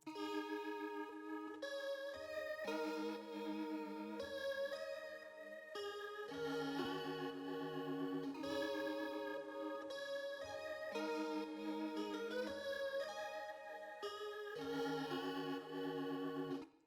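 A Keyscape piano pattern plays in a vintage soul sample, with rich, warm chords in a repeating rhythmic phrase, steady and unaccompanied by talk.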